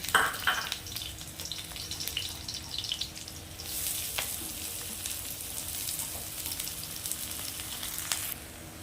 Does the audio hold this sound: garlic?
yes